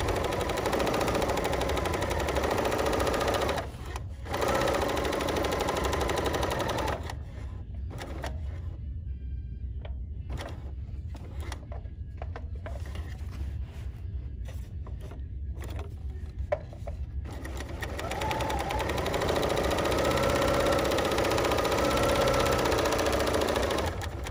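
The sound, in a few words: Bernina L 890 serger sewing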